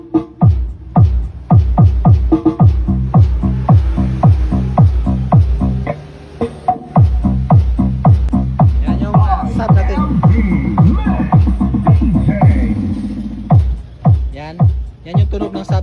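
Loud, punchy bass beats pound steadily from a subwoofer fed through an amplifier's auxiliary output during a soundcheck, with a busier music passage in the middle and quiet background chatter.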